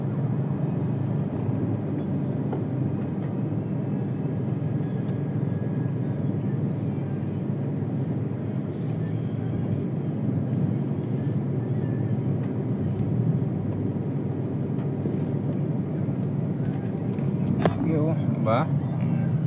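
EDSA traffic heard from inside a car is a steady low engine and road rumble with passing vehicles, continuous for the whole stretch, with a brief squeal near the end and people talking over it.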